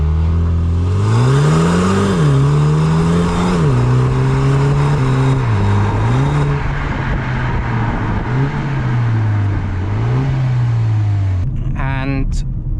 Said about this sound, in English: So this is what it sounds like from outside the car.